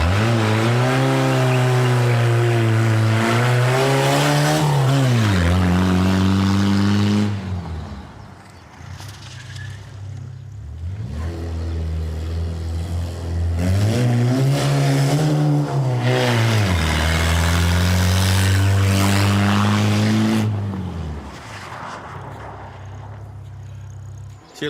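A car is driven hard, its engine revving loudly in repeated rising and falling sweeps, with a quieter lull between two long bursts close by.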